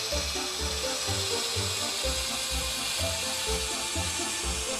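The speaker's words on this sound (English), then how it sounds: "Just use the handheld saw to trim off the excess." Taurus 3 handheld ring saw trimming excess off a panel, giving a continuous grinding whir with a pulsing low rumble as the blade works through the material, steady and close.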